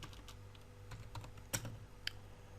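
Code is typed on a computer keyboard in a quiet run of soft, uneven key clicks with a couple of sharper strikes, close and alone without speech.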